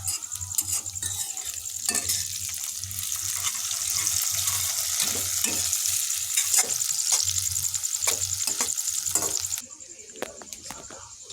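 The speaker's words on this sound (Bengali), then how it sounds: "পেঁয়াজটা ভাজা হয়ে গেছে, এবার ক্যাপসিকামগুলো ভেজে নেওয়া হবে।" Capsicum fries in a pan with a steady sizzle while being stirred, with scraping clatters throughout, for a home-style mutton curry.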